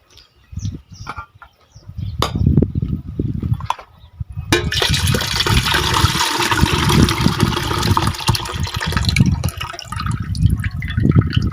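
After some soft knocks and handling, brine from pickling cucumbers pours steadily into a vessel, a continuous gushing splash that lasts several seconds.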